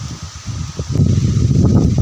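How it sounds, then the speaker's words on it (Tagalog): Steady rushing wind ahead of a typhoon on a farm, with a broad roar and rustling foliage, loud and close, building stronger toward the end. "Sobrang lakas ng hangin dito."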